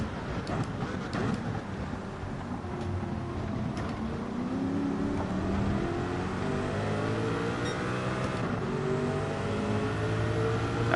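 Race car engine in Gran Turismo 7 on a wet track, revs falling and shifting under braking, a steady close engine tone with descending pitch sweeps, someone talking over it.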